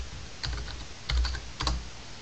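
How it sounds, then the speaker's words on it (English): A few soft keystrokes tapped on a computer keyboard in quick small clusters, close and fairly quiet against a low hum. "So in here I'm going to type in cupcake"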